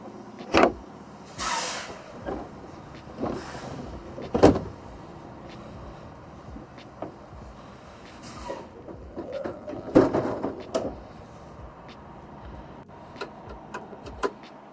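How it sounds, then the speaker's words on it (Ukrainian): Metal access doors of a Thermo King trailer refrigeration unit are opened and lifted off, giving scattered clanks, latch clicks and scraping thuds at irregular intervals, close and loud. "почнемо з того, що відкриємо дверцята. І спеціально для відеозйомки ми знімемо їх."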